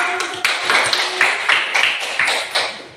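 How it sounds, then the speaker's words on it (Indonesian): Students clapping in a classroom, a dense burst of many hands applauding at close range with a few sharper claps standing out, fading slightly toward the end. "Kasih aplaus dulu."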